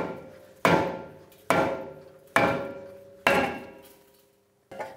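Hammer whacking a rear brake rotor on a 2011-2019 Ford Explorer with a lug nut left on, four loud ringing metallic blows at an even pace, each ringing out before the next, then a fifth softer hit.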